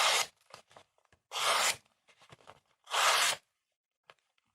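A Lionsteel Dom knife slices through magazine paper in three distinct sharp rasping cuts, each about half a second long, close and clear, with small rustles and handling sounds between them.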